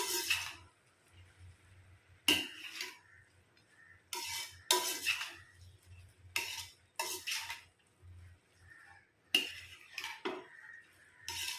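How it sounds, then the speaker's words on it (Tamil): A utensil stirs bottle gourd poriyal with spices in a pan. It sounds as intermittent scraping and clinking strokes, fairly close, with quiet pauses and a low hum underneath. "நல்லா கலந்துக்கலாங்க."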